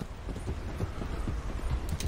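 Horse galloping downhill in Red Dead pounds out a rapid, steady run of low hoof thuds, close and continuous over a rumbling background.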